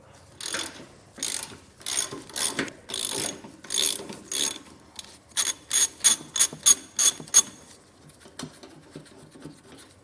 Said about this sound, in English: We'll take a 15mm socket and we're going to completely remove the front bolt on these tow hooks